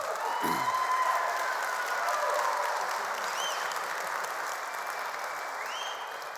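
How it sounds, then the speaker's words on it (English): A church congregation bursts into sustained applause from a seated crowd, broad steady clapping that holds level for several seconds and fades only slightly toward the end, with faint cheers and whistles drifting above it. "We can clap for them."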